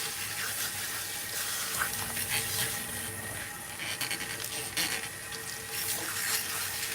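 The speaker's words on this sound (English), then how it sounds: "Just don't let that water run down my back." Water runs steadily from a salon sink tap while hair is rinsed after coloring, a continuous close hiss with small splashing shifts throughout.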